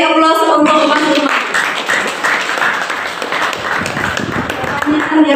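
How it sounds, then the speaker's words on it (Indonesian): A classroom breaks into applause for a student, a loud burst of many hands clapping that carries on for several seconds, with talk over the start. "Beri aplaus untuk Mas Imam."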